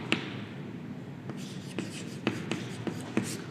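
Chalk or marker writing on a board during a commerce lecture, a series of sharp taps and short scratchy strokes at a steady pace, close and fairly clear over a quiet room hum.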